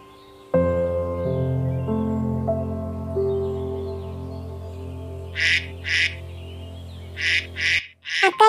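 Ducks fighting with chickens for space while feeding give a few short, loud quacking bursts in quick pairs near the end. Sustained tonal music plays before and under them, and no voices are heard.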